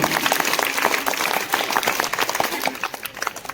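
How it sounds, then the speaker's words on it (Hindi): Children and adults at a school quiz competition clap together for a child's correct answer: a dense, steady wash of many hands, sustained and fairly loud throughout. "तालियां बजाइए बच्चे के लिए"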